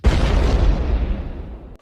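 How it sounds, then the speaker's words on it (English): An explosion sound effect erupts in one loud, deep, rumbling boom that fills the moment and slowly fades, with no talking. "goddamn explosion"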